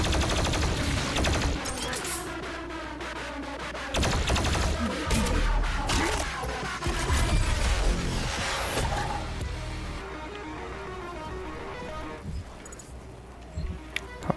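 Rapid automatic gunfire from Doom Eternal's Arc Complex level, dense bursts layered with booming impacts and game music, loud and continuous with brief lulls.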